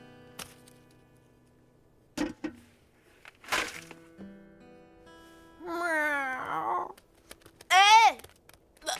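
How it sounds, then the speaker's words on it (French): A cat meows in several drawn-out, rising and falling calls, the last one loud and close, with clicks, knocks and sparse voices around it in an animated scene. "Ouf, ça n'est qu'un chat."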